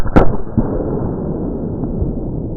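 An exploding air gun pellet strikes a BougeRV solar panel: one sharp, loud burst-like crack at the start, then a fainter second pop and a low lingering rumble.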